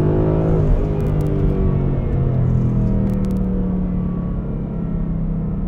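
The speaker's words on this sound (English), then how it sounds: "The exhaust is so much louder than before." A 2018 Ford Mustang GT in sport mode rumbles with a deep, loud exhaust drone, its tone rising slightly and then holding a steady low growl, heard close and alone without talk.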